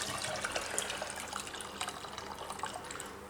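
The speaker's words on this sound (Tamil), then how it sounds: "இப்போ வந்து இந்த தண்ணியை வந்து நம்ம வடிச்சுக்கலாம்" Hot soaking water drained off soaked food into a sink, a steady broadband pour and splash with small drips, close and continuous, no voices.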